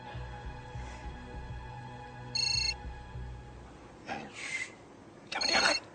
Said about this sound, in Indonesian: Jangan diangkat. Barangkali telepon itu sudah disadap.